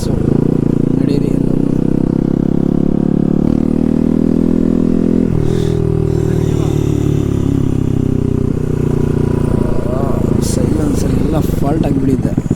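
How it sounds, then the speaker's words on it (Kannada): A Pulsar NS200 motorcycle engine with a faulty, loose silencer rumbles and revs steadily under loud, continuous talking close by. "ಫಾಲ್ಟ್ ಆಗಿಬಿಟ್ಟಿದೆ, ಸೈಲೆನ್ಸರ್ ಎಲ್ಲ ಬಂದುಬಿಟ್ಟಿದೆ ಈಚ್ ಕಡೆ ಇಲ್ಲಿಂದ"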